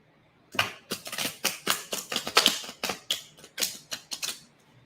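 Rapid crisp flicking and riffling of playing cards being shuffled, a quick run of sharp clicks up close, with no voices.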